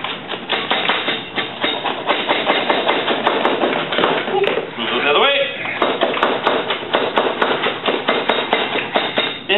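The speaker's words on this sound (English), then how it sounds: "Then just take a hammer and sliding against the bench." Rapid, repeated metallic hammer taps ring out close by in a steady rhythm as a sheet metal edge is bent against a bench, with a short scraping pause midway before the tapping resumes.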